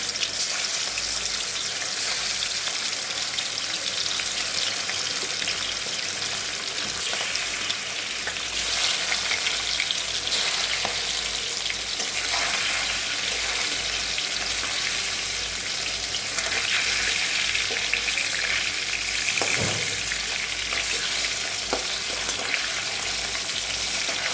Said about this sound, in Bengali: ইলিশ মাছগুলো আমি একদম হালকা করে ভেজে উঠিয়ে নেব